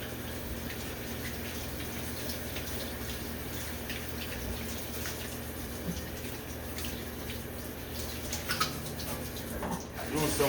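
Hands washed under a running tap at an outdoor cooking spot, a steady wash of flowing water with faint splashes and drips throughout, busier splashing toward the end.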